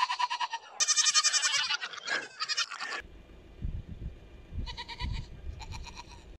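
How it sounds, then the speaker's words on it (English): Pygmy goats bleating in repeated bursts, fairly close and loud, with several overlapping calls and quieter gaps of farmyard shuffling between them. "So that's all from the pygmy goats."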